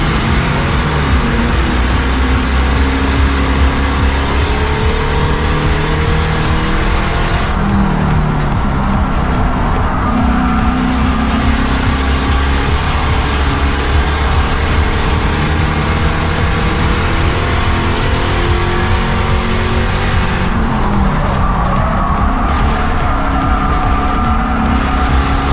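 Race cars in a short-track stock car event circle the track, one car running right on the bumper of another down the back straightaway; loud, continuous engine roar with passing swells and no talk.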